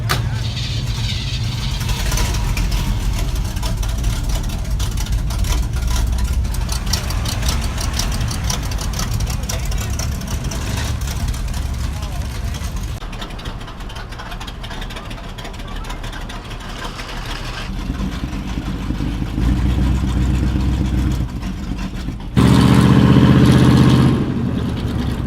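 A custom rat rod truck engine idles with a deep rumble, then revs and pulls away, the loud engine note rising and shifting as it drives off, with occasional voices underneath.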